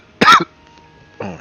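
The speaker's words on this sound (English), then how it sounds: "I cough and then I gag." A person coughs in two short, close bursts separated by a brief quiet pause, the second cough rougher, as if toward a gag.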